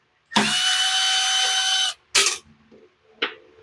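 A 3/8 power ratchet removes carburetor bolts on a Toro Recycler lawn mower that runs badly: a long steady whirring burst, then a short second burst and a brief final zip, loud and close in a quiet workshop.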